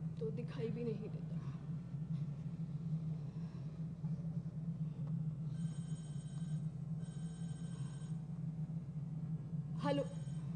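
A faint electronic phone ring chirps in the distance over a steady low hum, with a few brief clicks.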